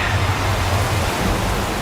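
Steady hiss of a shower of divine nectar falling, a rain-like sound effect from a mythological TV series, dense and continuous at even loudness throughout.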